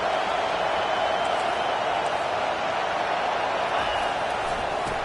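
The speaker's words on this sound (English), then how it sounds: "this crowd is turning it up a notch" A football stadium crowd cheers and roars as one dense, continuous wash of noise at steady high volume throughout, with no distinct voices standing out.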